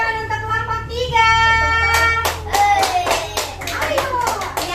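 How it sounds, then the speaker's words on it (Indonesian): Children and adults in a classroom give a round of clapping for group 3, sharp hand claps starting after a sustained tonal sound, ragged and close, with some voices under it. "beri tepuk tangan untuk kelompok 3"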